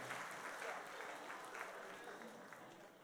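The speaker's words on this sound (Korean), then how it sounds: "다시 한번 큰 박수로 축복해 주시길 바랍니다." Church congregation applauding after a student retreat report, a steady broad wash of clapping that holds evenly for about three seconds, moderately distant and filling the room.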